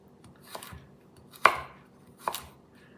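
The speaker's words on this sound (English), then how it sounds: "Slice it in half, lengthwise, and then julienne it." A knife push-slicing a vegetable into julienne strips on a board: a light cut, then two sharper chops spaced about a second apart, close up and alone.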